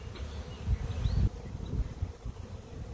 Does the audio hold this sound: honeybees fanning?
yes